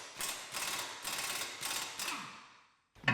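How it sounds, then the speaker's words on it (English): An air impact gun removing brake caliper bracket bolts on a 2008-2020 Grand Caravan, firing five loud rattling hammering bursts in an even rhythm, close by, followed by a short pause and a sharp knock. "I'm going to be putting the air gun on these"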